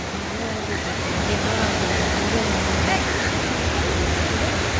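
Devkund waterfall in Odisha, a constant loud roar of falling water heard close by, with faint voices of visitors mixed into the rushing noise.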